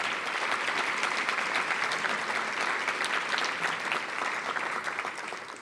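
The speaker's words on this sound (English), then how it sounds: "let's give Gary a round of applause for what he has done" Sustained round of applause from a luncheon audience honoring Gary at a Latino Leaders Network event, dense steady clapping filling the room for several seconds and thinning slightly at the end.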